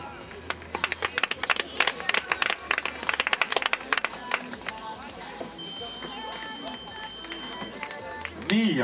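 Outdoor crowd at the finish line of the Paide-Türi fun run applauds a runner coming in, bursts of clapping rising and falling over several seconds amid footsteps and crowd murmur, with an announcer speaking over it.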